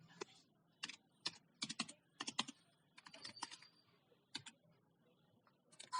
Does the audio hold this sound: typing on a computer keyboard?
yes